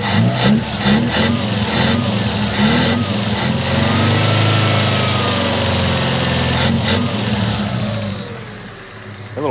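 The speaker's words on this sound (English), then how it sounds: "That little fuel pump's loud." A small fuel pump on a bagged minitruck runs with a loud, steady high whine and a mechanical drone close to the microphone. The sound holds continuous and fades slightly toward the end.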